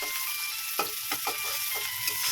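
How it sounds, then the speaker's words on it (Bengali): Chopped onions sizzle in hot oil for a potato, egg and eggplant curry, with a steady close hiss broken by a few sharp stirring scrapes of the spoon in the pan. "বেশ খানিকটা পেঁয়াজ কুচি দিলাম দিয়ে একটু নেড়ে নিচ্ছি"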